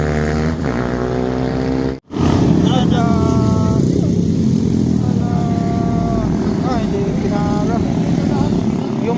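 A big bike, an RS 1000, passes amid road traffic with a loud, steady engine roar, while someone talks over it throughout.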